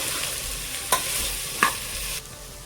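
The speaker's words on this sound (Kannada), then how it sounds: "ಸೊ ಕಾಳು ಹಾಕಿದ್ಮೇಲೆ ಎಣ್ಣೆಯಲ್ಲಿ ಚೆನ್ನಾಗಿ 1 ನಿಮಿಷ ಉರಿಬೇಕು." Sprouted beans sizzling steadily in hot oil for sambar, a close, continuous frying hiss broken by two sharp clinks of a stirring spoon against the pan.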